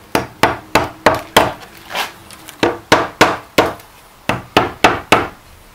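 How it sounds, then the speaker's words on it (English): A hammer taps repeatedly on a pizza oven mould to free it, sharp close knocks in quick bursts of four or five with short pauses between, loud and alone. "Hopefully with a few taps of the hammer."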